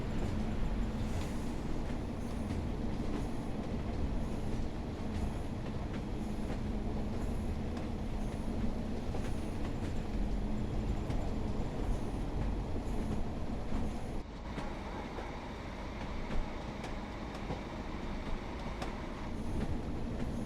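A Pacer train on the Blackpool Branches route from Preston to Ormskirk in Train Sim World 4 runs with a steady rolling rumble and faint clicks of wheels on rail, holding constant for a long stretch before the tone shifts slightly.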